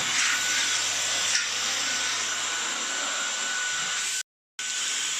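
G-Tech cordless vacuum cleaner running, a steady high-pitched whine and airy rush close up, briefly cut off for a moment before resuming.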